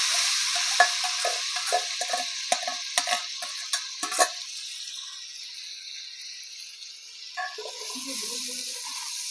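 Coarsely ground onion paste sizzles in a stone pot (kalchatti) for a country chicken curry, with a series of stirring scrapes over the first four seconds, then a steadier quieter frying hiss and a final stir.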